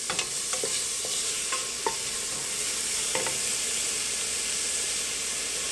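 Soup base for a country-style sopa sautéing in a pot with salt and cumin, a steady close sizzle broken by a few sharp scrapes and clicks of stirring, with no talk.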